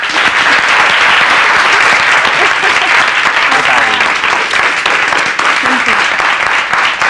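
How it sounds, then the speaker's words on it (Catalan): A studio audience gives a loud, sustained round of applause that fills the room at a steady level for the whole stretch, with faint cheering voices mixed into the dense clapping. "Rebem-la, sisplau, amb un fort aplaudiment."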